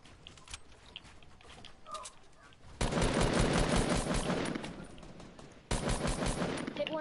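Rapid automatic gunfire in a shooting video game, coming in two long dense bursts after quieter scattered shots, loud and close.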